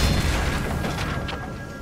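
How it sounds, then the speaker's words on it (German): An explosion in the video game Remnant 2 lands as a single dull, heavy boom at the start and then fades into a rumbling tail. "Die Dinger explodieren."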